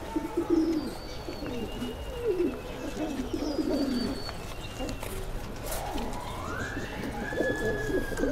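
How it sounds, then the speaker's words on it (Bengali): Pigeons at a pigeon farm cooing, soft repeated throaty coos from several birds, fairly close, with a few faint higher chirps mixed in and no talk. "আমরা একটু কবুতরটা দেখি।"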